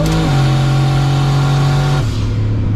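A drag-racing car's engine holding a loud, high, steady drone close up, then dropping sharply in pitch as the revs fall off near the end.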